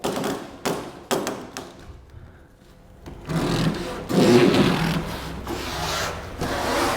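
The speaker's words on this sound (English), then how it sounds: "pull the tape all the way out and just pull it taut" Adhesive tape pulled out and stretched taut against a foam panel propped on a wall, giving short rasping strips and a longer dry scraping rub with brief thuds, fairly close and with no talking.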